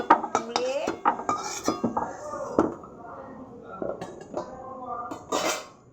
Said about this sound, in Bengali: এই দেখো বন্ধুরা এই আলুগুলো তুলে নিলাম।